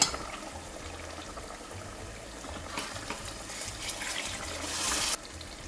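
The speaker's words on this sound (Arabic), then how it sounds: "توا نجمو نزيدوها شوية ماء سخون، مش برشا." A little hot water poured into a simmering Sfax-style fish couscous sauce, a steady splashing trickle that runs for several seconds and swells slightly before stopping abruptly, with faint low bubbling beneath.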